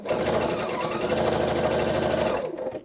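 A Pfaff Quilt Expression 720 sewing machine runs a quick, steady burst of stitching under a foot controller, close and even-paced, then stops abruptly.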